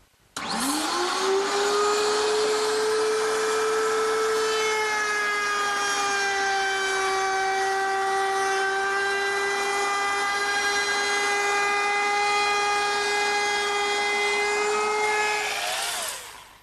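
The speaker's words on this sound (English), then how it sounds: "this router is mounted underneath a router table, and I've set it up with a 3/8-inch radius round-over bit with a pilot bearing" A table-mounted router fitted with a 3/8-inch round-over bit with a pilot bearing spins up, holds a loud, steady high whine as it routes wood for about fifteen seconds, then winds down.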